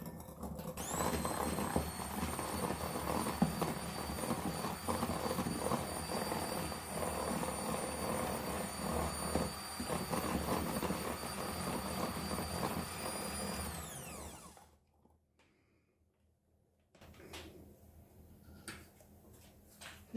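Egg yolks are whisked with sugar and vanilla paste in a bowl, a loud, steady motorized whir with a high whine running for about fourteen seconds, then cutting out to near silence and a few faint clinks.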